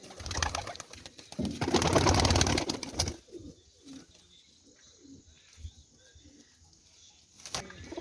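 Pigeons kept on a rooftop give soft cooing calls amid a brief flurry of flapping wings, fairly close, with scattered quieter coos afterward.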